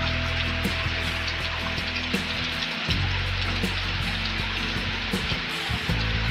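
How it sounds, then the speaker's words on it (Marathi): Heavy monsoon rain in the Konkan countryside falls on water-filled farm fields, a steady, close hiss of downpour holding constant throughout, with a faint low hum beneath it. "पाऊस बघा कसा पडतोय, जोरात पडतोय."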